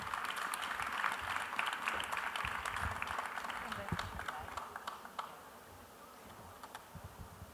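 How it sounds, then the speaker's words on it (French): An audience at a French round-table event applauds, a dense burst of clapping that gradually thins and fades toward the end. "je vous remercie de lui faire un tonnerre d'applaudissements"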